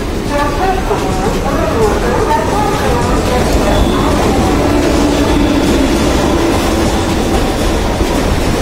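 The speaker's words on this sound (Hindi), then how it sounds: "मल्ला लोकल ट्रेन है बॉम्बे का।" A Mumbai local train rumbles along with constant loud clatter and wheel noise, steady throughout, with faint voices blending into the din.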